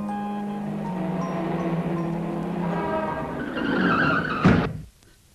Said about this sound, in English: The car has knocked him down.